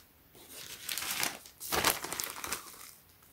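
A plastic Ziploc bag being handled up close, giving two swelling bursts of crisp crinkling and rustling over about three seconds, with no voices.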